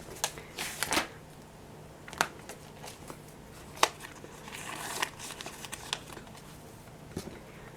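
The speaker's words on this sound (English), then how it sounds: "So I'm adding 5 to this envelope," Canadian banknotes handled and stuffed into an envelope, heard close up as soft, sharp rustles and paper snaps scattered irregularly in a quiet room.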